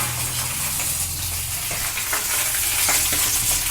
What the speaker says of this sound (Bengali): এই কপির পাতাগুলো এর মধ্যে দিয়ে দিই দিয়ে ভালো করে আমি উল্টে পাল্টে এটাকে একটু ভাজা মতো করে নিন